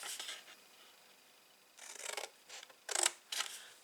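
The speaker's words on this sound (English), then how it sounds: "Then you're just going to cut up these 2 flaps." Scissors snip through card flaps for a 3D advent calendar in short, close bursts, a quick cut followed by several separate crisp snips and slides, quiet and with no speech.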